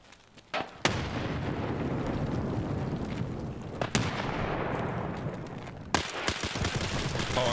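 Gunfire in the video game Escape From Tarkov, with loud sharp shots at about one, four and six seconds standing out over a dense, continuous rumble of battle noise.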